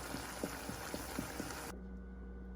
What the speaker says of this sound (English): So I'm just going to drain the ground beef in a little strainer in my sink here